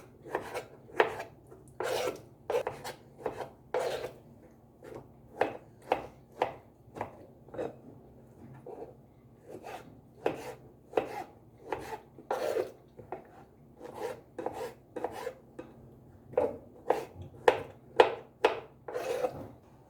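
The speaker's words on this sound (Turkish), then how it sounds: "Şimdi küp küp doğrama işlemine geçiyoruz." A knife chops steadily on a cutting board in quick, repeated strokes with brief pauses, close and crisp.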